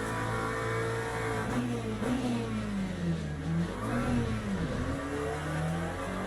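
A race car engine in Le Mans Ultimate drones steadily, its pitch climbing and falling as the car revs and shifts around the circuit, loud and constant with no talk.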